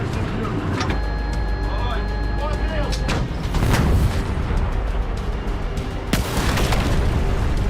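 Ukrainian artillery fires on a Russian column: sharp, loud booms burst out twice over a steady engine-like drone and rumbling background.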